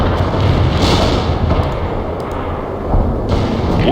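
Incoming artillery fire in World in Conflict, a dense, continuous rumble of distant shelling and booms with scattered cracks, loud and sustained throughout without a break.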